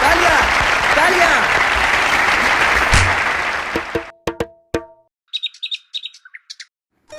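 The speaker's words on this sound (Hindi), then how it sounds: "तालियां तालियां तालियां तालियां तालियां तालियां।" Audience applause from a crowd, loud and continuous for several seconds before breaking off abruptly, followed by a few isolated sharp claps and scattered bird-like chirps.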